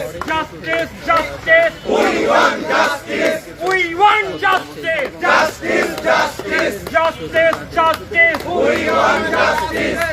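A protest procession crowd in Old Dhaka near Victoria Park chants slogans in loud, rhythmic call-and-response bursts, many voices shouting together close by, with steady repeated cadence throughout.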